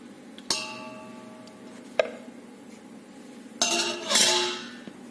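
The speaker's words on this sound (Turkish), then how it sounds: "Evet tatlarımızı şöyle borcamın içerisine çekiyorum" Glass and metal clinks as Kemal paşa dessert pieces are set into a glass baking dish, a few sharp knocks spaced apart then a brief cluster of clatter, close and quiet with no talk.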